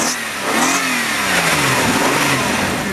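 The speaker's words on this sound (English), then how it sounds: "Motor sounds good." A 1998 Nissan Maxima car engine revs up nearby, climbing and settling back in pitch across a few seconds with no talking over it.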